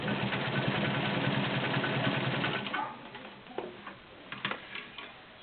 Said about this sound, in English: This is 6 layers of woven upholstery with a rubberized backing. You can hear this machine's very smooth.